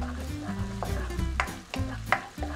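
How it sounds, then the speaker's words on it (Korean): Minced garlic and green onion stir-frying in cooking oil for a cabbage dish, a close, continuous sizzle broken by a few sharp scrapes and clacks of a utensil stirring in the pan. "이제 식용유를 넣고 준비된 재료들로부터 볶아주겠습니다"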